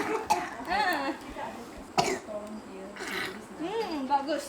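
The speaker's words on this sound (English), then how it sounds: "With teaching from the TIMA members, she can finally cough it out." A woman coughs phlegm from her windpipe, with several sharp, fairly close coughs and throat clearing, between stretches of speech and other voices.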